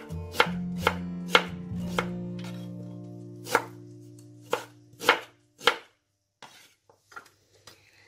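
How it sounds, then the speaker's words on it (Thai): Mature ginger cut into rounds with a knife for a Thai mackerel soup with fermented soybean, heard as about a dozen sharp, close knife strikes on a board, spaced irregularly with quiet gaps between them. "ขิงแก่นะให้เพื่อนค่ะหั่นแว่นเลยค่ะ"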